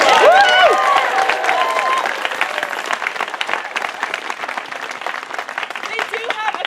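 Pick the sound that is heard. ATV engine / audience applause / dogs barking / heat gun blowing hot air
audience applause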